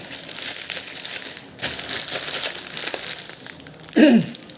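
Plastic parcel packaging from an online order is torn open by hand without scissors, giving crinkling and crushing plastic rustles through the clip and a louder crackle near the end, with no talk.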